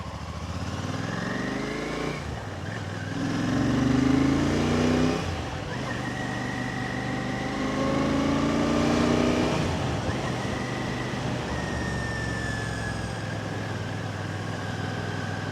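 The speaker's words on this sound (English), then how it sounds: "the engine whine, the whining noise of the engine has increased a little" A Royal Enfield Classic 650 motorcycle fitted with a DNA Stage 2 air filter idles steadily and is revved twice, each rise in throttle bringing a swelling engine whine, heard close and continuous.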